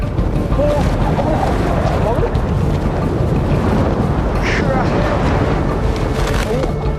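Fierce westerly wind in Tasmania roars in a dense, rumbling rush that buffets the microphone, loud and constant throughout, with no gaps or lulls.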